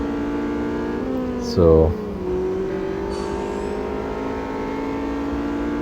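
Honda Civic Type-R engine in the racing game Real Racing 3, a steady whining drone that shifts pitch with a brief louder rev burst, heard under someone talking.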